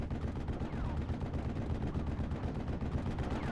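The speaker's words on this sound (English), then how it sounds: "Another barrage coming on in." An artillery barrage in a World War II strategy game, with a dense, continuous rumble of distant blasts and rapid gunfire, fairly faint and steady throughout.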